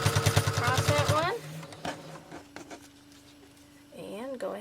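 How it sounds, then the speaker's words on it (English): A sewing machine stitches fabric for a child's corset top made with fabric and ribbon, a fast rhythmic burst at the start that stops abruptly, followed by quieter handling noises and brief soft talk. "go ahead and sew down"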